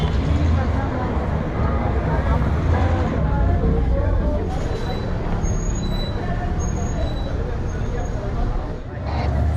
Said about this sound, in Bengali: বাস, বাইক, স্থানীয় মানুষ, পর্যটক, দোকান বাজার মিলিয়ে জমজমাট একটা পরিবেশ।